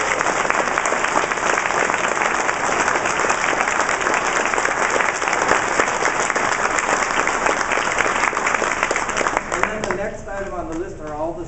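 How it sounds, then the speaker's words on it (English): A school audience applauds a student violinist who placed fourth chair in the state orchestra. The clapping is dense and sustained throughout, then thins near the end as talk begins. "so give him a round of applause"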